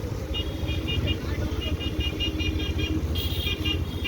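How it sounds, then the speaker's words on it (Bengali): A bus passing close on a muddy, congested road, its engine rumbling steadily while repeated horn toots sound in short bursts throughout, with a louder honk near the end. "এই যে বাস যাচ্ছে"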